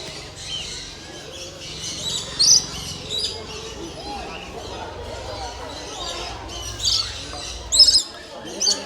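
Exotic birds squawk and chirp in a bird park, with a few louder calls standing out over a steady chorus of smaller birds and faint background voices.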